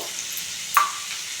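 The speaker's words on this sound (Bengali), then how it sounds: "আর এই যে এখানে সব ভাজা চলছে দেখিয়ে দিলাম" Vegetables (cauliflower, potato, egg and peas) frying in a pan, heard as a steady soft sizzle with one brief scraping stir near the middle, alone with no talk.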